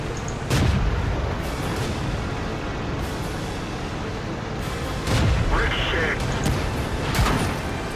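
Tank cannon shots in World of Tanks, several heavy booming blasts spaced a few seconds apart, each with a sharp onset and rumbling tail, with someone talking over them.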